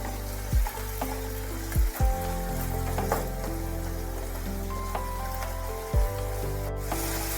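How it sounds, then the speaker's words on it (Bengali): Paneer with spices sizzles in a frying pan for a vegetarian paneer dish, a steady close hiss broken by a few sharp scrapes and knocks as a spoon stirs it. "পনির দিয়ে ভালোভাবে একটু নাড়াচাড়া করতে হবে।"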